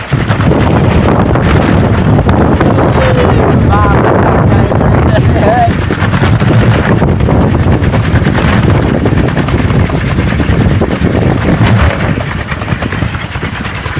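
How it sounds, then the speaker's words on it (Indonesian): Strong wind buffets the microphone in a loud, constant roar from start to finish around a kolecer, a bamboo wind propeller toy at Cibenda, while voices call out faintly beneath the noise. "ya angin loba Cil."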